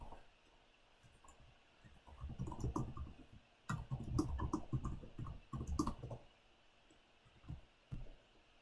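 Clicks and taps of typing on a computer keyboard while entering text into a text box on screen, a close, irregular burst of keystrokes in the middle with quieter, sparser clicks before and after.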